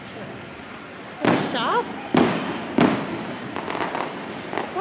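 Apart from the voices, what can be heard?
fireworks over Epcot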